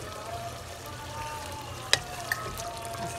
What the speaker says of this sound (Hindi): हमारा कीमा बुन रहा है